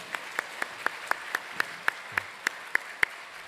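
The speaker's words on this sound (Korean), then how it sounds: "다시 한번 박수로 축복하겠습니다" A church congregation at a special revival service claps in unison, a steady rhythmic beat of about four sharp claps per second, evenly spaced and moderately loud over a quiet room.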